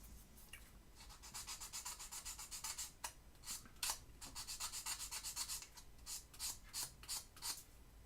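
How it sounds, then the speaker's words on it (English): Small plastic model kit parts are sanded by hand, with repeated short rasping strokes that are close and fairly quiet, in an uneven back-and-forth rhythm. "Although these parts do need a bit of sanding."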